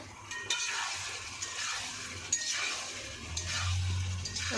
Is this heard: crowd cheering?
no